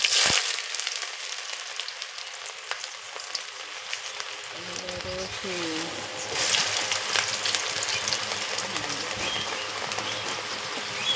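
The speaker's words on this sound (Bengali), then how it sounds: "তো বন্ধুরা কড়াইতে তেলের উপরে কি কি দিচ্ছে দেখো" Ingredients frying in oil in a wok over a clay stove, a steady broad sizzle that swells partway through, with scattered clinks and faint background sounds and no talk.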